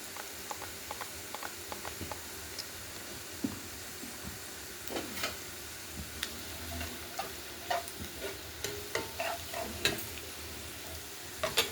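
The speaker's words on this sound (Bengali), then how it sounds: "আমি পেঁয়াজ কুচি দিয়ে দিয়েছি, এবার লাল লাল করে ভেজে নেব" Onion and garlic frying in a pan with Kashmiri chili powder, a soft low sizzle under frequent light ticking taps of a spoon on the pan, fairly quiet and steady throughout.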